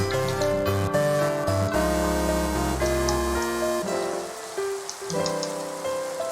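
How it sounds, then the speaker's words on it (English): Rain falls in the video game Minecraft as a steady patter beneath layered sustained background music tones, continuous and moderately loud throughout with no talking. "Should I turn the rain back on?"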